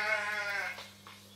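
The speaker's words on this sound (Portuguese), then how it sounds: "ovelha." A sheep gives one drawn-out, wavering bleat, clear and fairly close, fading out after about a second, with no talking.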